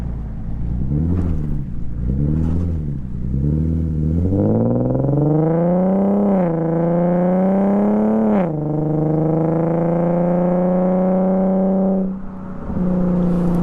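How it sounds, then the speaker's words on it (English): A car's engine, heard from an onboard microphone during a drive, pulses a few times, then revs up steadily through gear changes, holds a strong, close, rising drone and eases off near the end, with no talk. "I love how this car sounds."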